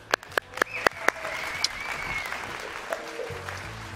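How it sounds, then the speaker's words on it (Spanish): Audience applause at a Mexican morning TV show, opening with several sharp distinct claps that blend into a steady mid-level wash of clapping lasting several seconds, with no talk over it. "Así que un aplauso"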